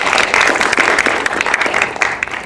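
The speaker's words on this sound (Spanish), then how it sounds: "les pido que le demos un fuerte aplauso" A conference audience claps loudly and steadily at a panel discussion on access to information and transparency, a dense wash of hand claps sustained throughout without pause.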